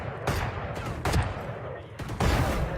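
Bursts of gunfire from a shooter video game, with several loud broadband blasts spaced out over a steady noisy backdrop while players talk.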